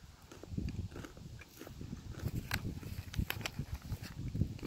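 Crunchy coconut Stoka bar being chewed close up, a run of irregular crisp crunches and soft mouth sounds with no talking.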